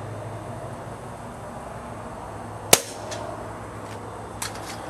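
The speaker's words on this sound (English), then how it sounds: "It's it's really quiet. I'm shooting this Federal Bulkpack." A suppressed Browning Buck Mark pistol firing Federal Bulk Pack ammunition gives one sharp, fairly quiet report, then a fainter second shot a moment later, both standing out over steady outdoor background noise.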